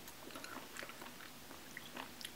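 Soft, close chewing of a bite of cooked mushroom with a meaty texture, quiet moist mastication sounds repeating in an uneven rhythm over a short stretch, with no talking.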